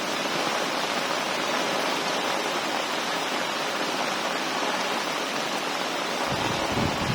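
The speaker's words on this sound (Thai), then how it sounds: "นี่นะครับฝนตกมาหนักมากเลยนะครับ" Heavy rain pours down across a village during a thunderstorm, a dense, steady, loud hiss with no pauses, close and uninterrupted.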